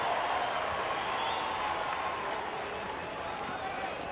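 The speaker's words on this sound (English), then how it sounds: "if you hear some applause in the background, that is accurate" Crowd applause at a Yankees baseball game in Colorado, a soft, distant, continuous patter of clapping and crowd murmur with no single voice standing out.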